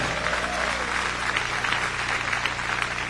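A church congregation applauds during a pastor's testimony service, a steady wash of clapping filling the room at moderate loudness with a faint voice over it.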